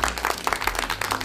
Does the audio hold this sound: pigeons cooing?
no